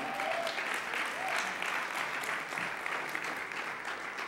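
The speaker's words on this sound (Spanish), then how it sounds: "dale un aplauso al Señor" A church congregation applauds, a steady dense wash of many hands clapping that fills the whole stretch at an even level, with a voice briefly audible beneath it.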